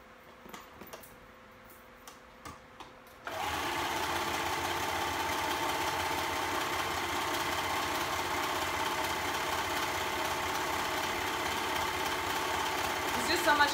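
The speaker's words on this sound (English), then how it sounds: "So here's my serger, so I'm going to serge that" A serger overlocker stitching double brushed poly fabric for a tulip dress starts after a few seconds of faint ticking, then keeps up a steady, close, whirring machine hum to the end.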